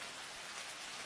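Steady, close rain falling with a dense, even hiss and no other sounds.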